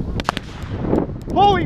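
Roman candle fireworks are lit and fire in a backyard firework fight, giving a few sharp, loud, close pops in quick succession followed by a brief whistling burst.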